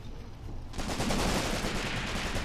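Gunfire in the WW2 video game Graviteam Tactics: Mius Front, quiet rumble at first, then a sudden burst of dense, sustained rapid firing that stays loud to the end.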